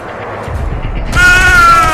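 Gunfire in Saints Row 4, a dull burst of shots followed by a loud, sustained ringing tone with dense high-pitched overtones.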